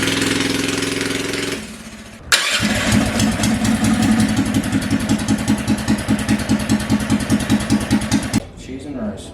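A big block 420cc engine on an FRP GMB100 minibike frame roars to life after a cranking start and runs loud and close at a high, rapidly pulsing idle before cutting out, with a voice heard over it.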